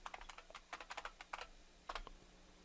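Quick bursts of key presses on a computer keyboard as a password is typed to log in to Kali Linux in VirtualBox, two clusters of clicks with a short pause between, close and fairly quiet.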